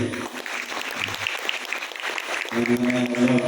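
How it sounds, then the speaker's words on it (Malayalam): An audience applauds at a farmers' committee felicitation meeting in Kolathur. The clapping is sustained and dense throughout and swells louder near the end, with a voice faintly mixed in. "ഒന്ന് കൈയടിച്ചില്ലേ?"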